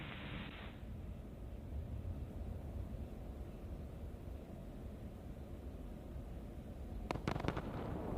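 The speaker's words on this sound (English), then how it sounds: "Stage 1 landing burn." Falcon 9 first stage during its landing burn: a steady, dense roar of rocket exhaust fills the whole stretch at a constant level, with a brief hiss at the start and a cluster of sharp crackles near the end.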